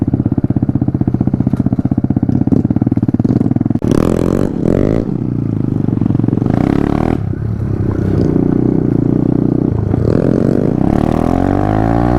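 Honda Grom and Kawasaki Z125 mini motorcycles ridden hard near full throttle with downshifts, a loud buzzing small-displacement engine drone with pitch shifts between gears, bursts of wind buffeting and a clunk, heard up close.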